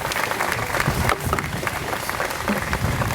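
Graduating class at a commencement ceremony clapping in appreciation, a dense, steady burst of applause from a large crowd, fairly close and without speech.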